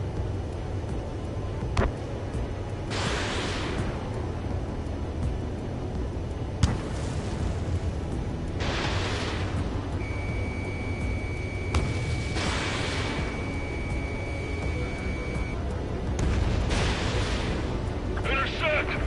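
Anti-aircraft fire and explosions in a war video game: deep booms and bursts of gunfire repeat over a constant rumble, with one sustained tone partway through.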